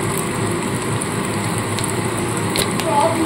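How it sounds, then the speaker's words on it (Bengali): Bay leaves, whole garam masala and cumin seeds sizzle in hot oil for a Bengali dhaba-style egg curry, giving a steady close crackling hiss with a few sharper pops and no talk. "এবার এই তেলের মধ্যে দিয়ে দিলাম 2টো ছোট তেজপাতা আর ফোড়নে গোটা গরম মশলা আর জিরে।"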